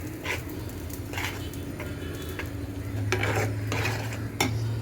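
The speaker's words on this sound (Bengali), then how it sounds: "ভিতরে লাড়তে লাড়তে একদম ভর্তার মতো শুকায় খাবো।" Shrimp being stirred in a pan while cooking, a spatula scraping and clinking against the metal in a few separate strokes over a steady low hum, with no talk.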